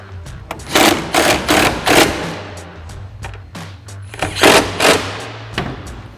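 Bolts holding a 60-inch LED light bar on a Ford F150 tailgate are tightened with an 8mm socket, heard as several short bursts of rapid mechanical clicking up close.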